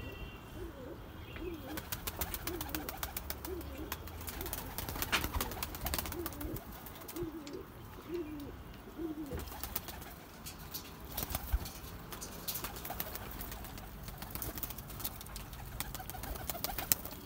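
Pigeons coo softly in repeated low, throaty calls amid rustling and scattered background noise, fairly close and quiet.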